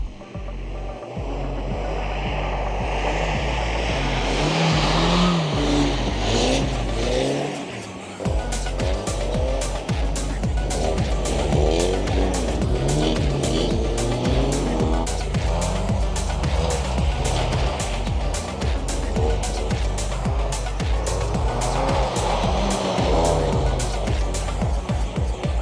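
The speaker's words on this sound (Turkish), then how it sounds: "Drift yapanlar var buzun üstünde araçla." Cars drifting on a frozen lake in Yakutsk at -30 °C: loud revving engines with repeated rapid ticking and tire noise, sustained and close throughout, no speech.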